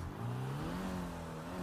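A car in a GTA roleplay game engine drones and rises in pitch as it drives away, a smooth steady motor hum heard alone for a moment.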